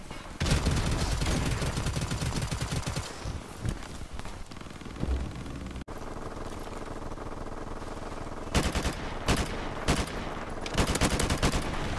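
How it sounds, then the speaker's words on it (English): Sustained automatic gunfire in a Call of Duty 4 Modern Warfare team deathmatch, long rapid bursts of rattling shots broken by brief pauses, loud and close. "Who the hell's shooting?"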